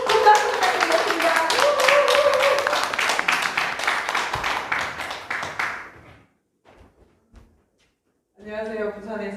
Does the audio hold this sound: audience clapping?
yes